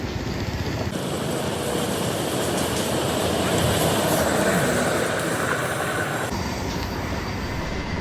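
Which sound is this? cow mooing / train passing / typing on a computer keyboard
train passing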